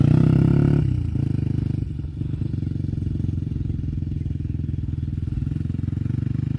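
A motorcycle drones steadily and close up while riding on a road trip near Madikeri. Its engine pitch drops early as it shifts or eases off, then settles into an even, continuous hum with faint clatter.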